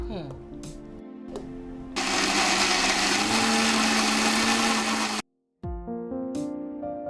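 A kitchen blender grinds cooked prawn gravy into a paste, a loud steady whirring roar that starts after a short stretch of talk, cuts out abruptly, then gives way to speech again.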